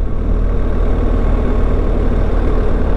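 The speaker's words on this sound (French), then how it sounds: "je veux voir aussi si la moto est capable de faire des kickdowns quand on veut se dégager alors qu'on est en train de cruiser" A BMW 1300 GSA motorcycle engine pulls under kickdown acceleration while cruising, a loud, close, continuous low roar that holds steady and dense throughout.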